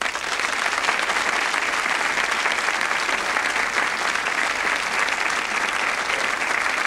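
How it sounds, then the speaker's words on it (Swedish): Loud, sustained applause from a TV studio audience on a 1992 Swedish entertainment show, a dense, steady wash of clapping that fills the whole stretch without letting up. "en stor applåd!"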